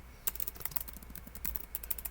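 Rapid, uneven clicking of computer keys as text is typed into an on-screen box in garage management software, close and clear with no talking.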